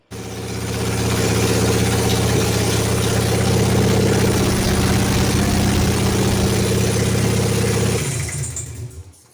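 A 2006 Harley Davidson Dyna Super Glide with a new intake and battery is fired up and rumbles at a loud, steady idle with deep, rhythmic low pulsing, then cuts off near the end.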